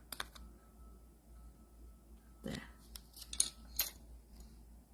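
Scissors snip through the corner of a handmade rustic Christmas card, a few quiet, close cuts and clicks spaced apart over a hushed background.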